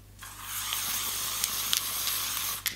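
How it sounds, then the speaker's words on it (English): Vichy Ideal Soleil SPF 50 sunscreen spray released in one steady, fine hissing mist that runs nearly the whole moment at close range, with a few brief clicks near the end. "Show you how fine this spray is."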